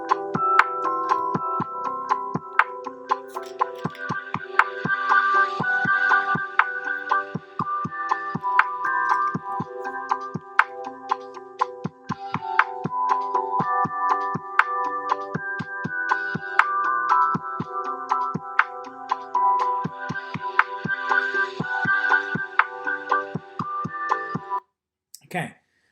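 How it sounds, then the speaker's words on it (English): Lo-fi hip hop track with a vinyl effect: steady mid-range chords and melody over regular soft percussive hits and crackle, playing continuously at an even level before stopping abruptly near the end. "if you're not sure what lo-fi hip hop kind of sounds like, here's just an example of what we're trying to achieve today."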